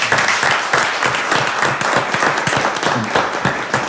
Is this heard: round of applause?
yes